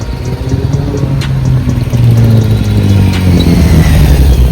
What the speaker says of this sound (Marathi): डॉज आहे, डॉज.